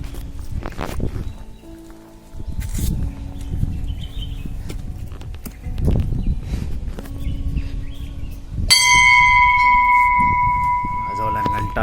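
Near the end a temple bell in a Konkan village rings out with a bright metallic strike that keeps sounding, after rustling and footsteps with talk nearby.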